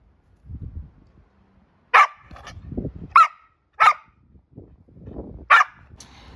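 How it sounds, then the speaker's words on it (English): A dog barks in sharp bursts, about five barks spread out with pauses, fairly close, with low rustling and thumping between them. "What you barking at?"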